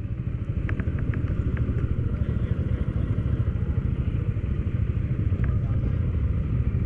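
A motorcycle engine labors and bogs down while crossing a clear river in Tanay, a dense close-up mid-pitched rumble with faint clatter throughout, steady and loud.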